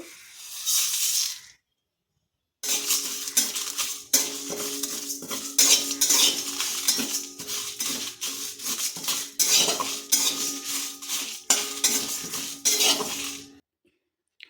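Whole coriander, cumin, fennel, panch phoron and dried chillies are dry roasted in a pan, mostly heard as a busy, rhythmic scraping and clinking of a metal spoon stirring against the pan, with a short silent pause before it starts.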